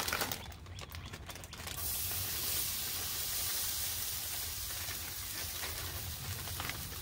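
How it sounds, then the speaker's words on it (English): Hash browns sizzle in oil on a Blackstone griddle, a steady close hiss that starts after a brief rustle and then holds loud and even throughout. "I'm going to add my hash browns and get them cooking because they take a little while."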